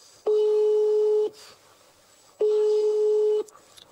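Telephone busy tone after a call is hung up: two long steady beeps about a second each with a short gap, loud and clear with no talking.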